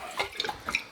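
Distilled water pours from the spout of a countertop water distiller into a container, a close, bright splashing trickle with small bubbling gurgles through the second.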